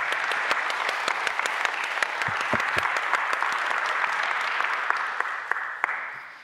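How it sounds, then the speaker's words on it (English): An audience at a science summit claps in sustained applause, dense and steady, thinning out toward the end with a few last scattered claps. "So big thank and an applause."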